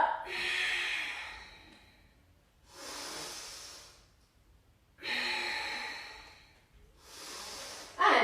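Slow, deep yoga breaths come in steady cycles, about four long airy inhales and exhales spaced a couple of seconds apart, close and fairly quiet.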